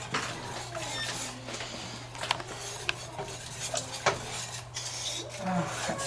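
A spoon stirs turkey soup filling in a pot, scraping and clinking against the sides in an uneven rhythm with a few sharper knocks, close up and moderately loud.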